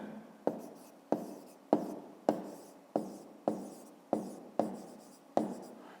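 Pen or chalk writing out a fifth-grade maths solution, about nine sharp strokes in a steady rhythm, each starting with a tap and trailing off in a scratchy scrape, close and clear with no talking.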